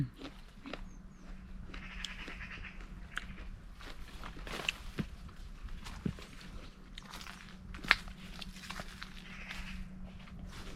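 Crunchy biting and chewing of fresh rhubarb stalks picked straight from the garden, with repeated crisp bites and chewing at close range over a steady outdoor background hum.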